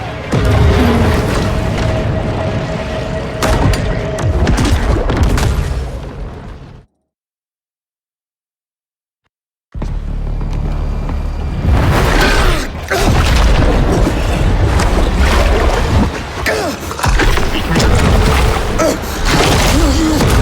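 Heavy underwater booms and bursts from torpedo explosions in the shark game Maneater roar loudly and continuously, broken by a short stretch of silence before the rumbling blasts resume.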